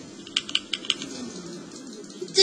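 Computer keyboard typing during a live game stream, a few sharp clicky keystrokes in a quick burst near the start, then quieter scattered taps over a faint background hum, with no speech.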